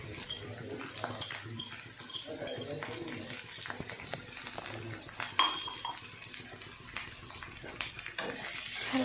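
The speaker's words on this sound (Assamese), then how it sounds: "ভালকৈ মিক্স কৰি ল'ম।" Fish curry with vedailota leaves being stirred in a pan, steady soft scraping and clinking with a faint sizzle underneath, close by, while a voice talks over it and a dog sounds briefly in the background.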